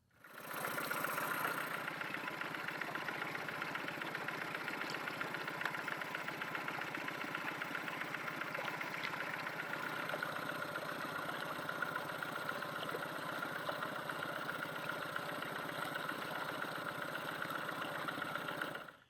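A boat engine drones steadily at mid pitch for the whole stretch, a constant close motor hum with no talking, while cruising north of Ardnamurchan Point between Sunart and Lismore in Scotland.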